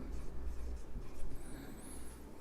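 Chalk or marker scratches and taps on a board during a chemistry lecture on electrochemistry, a faint, continuous scratching stroke pattern close by with no speech.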